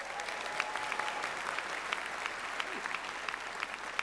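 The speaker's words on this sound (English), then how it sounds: "Let's give him a big round of applause." Steady round of audience applause at the comedy roast of Bruce Campbell, SF Sketchfest, dense even clapping with scattered sharper claps, moderately distant and continuous throughout.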